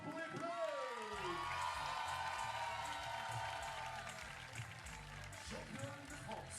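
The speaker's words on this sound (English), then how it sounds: "dans des applaudissements pour les Bleus." Arena crowd applauding the French team at a FIBA 3x3 women's basketball finals in Bordeaux, sustained clapping and cheering beneath an announcer's amplified voice.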